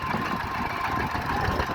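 A tractor engine runs steadily up close, a dense, continuous mechanical drone with a faint knocking texture and no pauses.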